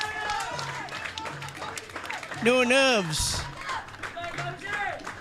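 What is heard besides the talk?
crowd applauding a batsman at a cricket match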